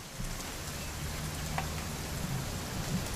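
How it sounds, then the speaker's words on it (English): Rain falls steadily in the video game What Remains of Edith Finch, a soft, even patter of drops on surfaces that continues without a break. "It's gonna rain the whole weekend"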